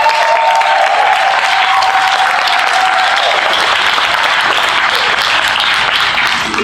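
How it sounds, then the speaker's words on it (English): Sustained, loud applause from a large convention audience at closing ceremonies, steady clapping that fills the whole stretch without letting up. "give them a huge round of applause"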